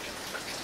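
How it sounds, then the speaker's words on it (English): Steady rain on a tropical-wave day hisses evenly over the brief moment, a dense wash of drops falling outdoors with no voices. "it's a very rainy day today"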